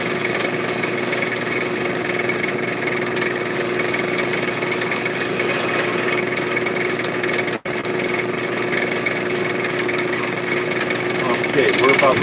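A brake lathe turns and cuts a disc brake rotor in a workshop, giving a steady, loud mechanical whirring with a metallic ringing tone throughout and one brief dropout.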